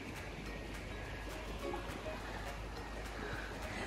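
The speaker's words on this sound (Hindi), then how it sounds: "देखो पानी की आवाज़ कितनी अच्छी लग रही है" Water flowing at a lakeside near Mt Buller, a soft steady wash of broadband noise, fairly faint and continuous.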